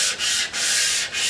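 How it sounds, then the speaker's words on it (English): Hand polishing the metal of a Colt Lightning rifle: a loud, close, continuous abrasive rubbing in long strokes, with brief pauses between passes and no talking. "as we start polishing here, we're going to see what kind of defects present themselves"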